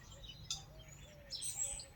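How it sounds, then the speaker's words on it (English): Birds chirping outdoors during a quiet meditation, a few short, faint tweets and calls scattered over soft background hum. "I do have nice sounds around, birds coming"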